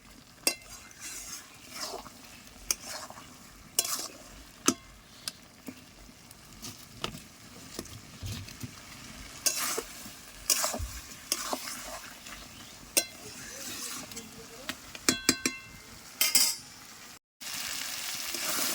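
Tender young goat mutton being sautéed in a pan, with a soft ongoing sizzle punctuated by sharp, irregular clatters of a spoon stirring against the pan.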